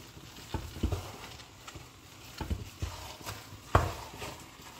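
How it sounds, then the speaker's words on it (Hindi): Khoya being stirred into carrot halwa in a pan gives soft, irregular thumps and scrapes of a spoon against the pan, quiet and close, with no talking. "इसमें डाल दूंगी और इसको मैं कर लूंगी अच्छी तरह से मिक्स।"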